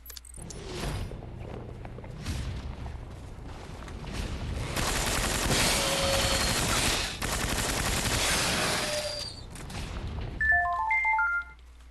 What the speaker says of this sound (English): Let's go orbital bombardment.